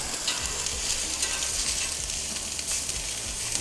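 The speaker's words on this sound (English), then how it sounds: "we got a real nice sear on it" Meat sears in a hot pan, a dense, even sizzle that stays close and constant throughout with no pauses.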